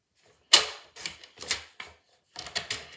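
Scissors or a craft cutter cut a 3 by 3 inch square from a paper mat, giving a sharp first snip and then four or five softer, close cuts in an uneven rhythm. No one talks.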